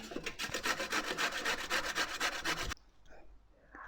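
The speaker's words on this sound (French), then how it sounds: "nous avons besoin de gratter la carotte et les courgettes" Carrot and zucchini grated by hand on the coarse side of a grater: a loud, close, rhythmic rasping of fast repeated strokes, which stops abruptly after a few seconds and leaves quiet kitchen sounds.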